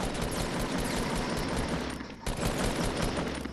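Gunfire in the Fortnite battle royale game, a loud dense stream of rapid automatic shots that barely pauses once before continuing.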